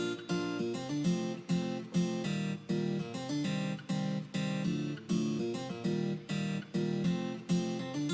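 Ample Guitar plugin guitar playing a chord progression in a tropical house arrangement, heard in a full mix with rhythmic pumping chords repeating steadily and loud throughout.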